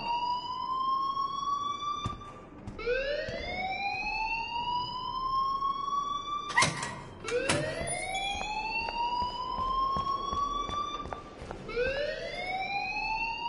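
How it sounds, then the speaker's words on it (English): Ringing school alarm in the video game Life Is Strange, a loud rising-and-falling electronic wail that repeats in long sweeps about every four to five seconds, broken by a few sharp clacks, with no speech. "please turn off that alarm since that's your job"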